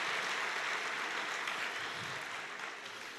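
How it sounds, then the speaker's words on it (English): An audience at a university Vice-Chancellor's welcome ceremony applauds with steady, dense clapping that fills the hall and fades slightly toward the end. "Give them a round of applause."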